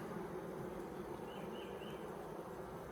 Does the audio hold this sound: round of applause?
no